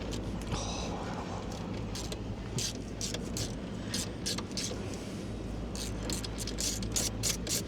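A ratchet works on 13 mm bolts under a Kia Ceed steering column, giving close, rapid clicking bursts in repeated short runs over a low background hum.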